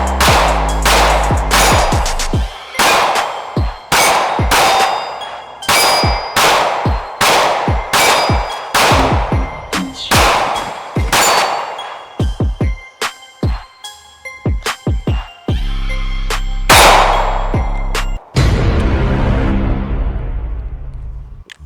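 A handgun firing Federal ammunition, with a long series of loud, sharp reports at irregular intervals, some in quick clusters, followed by a hissing, rattling tail at the end.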